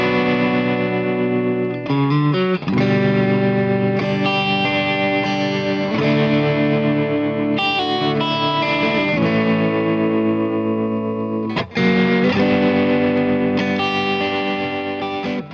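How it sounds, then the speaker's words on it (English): Strummed electric guitar chords with a distorted, pulsing tremolo tone, ringing continuously with a few brief breaks between chord changes. "I feel like a little bit of distortion, some tremolo, some open chords will do the trick."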